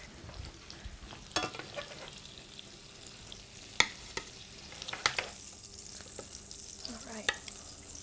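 Unseasoned flat iron steak sizzles faintly on a George Foreman grill, a soft continuous hiss with a few sharp clicks and scrapes of utensils.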